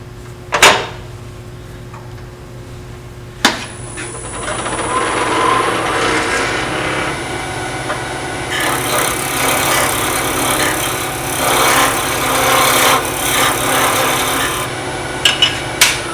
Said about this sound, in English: I could almost sand that down.